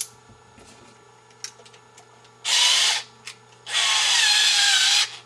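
A Ryobi power screwdriver drives a stubborn screw, in two loud whirring bursts: a short one of about half a second, then a longer, strained run of over a second, each with quiet gaps before and after.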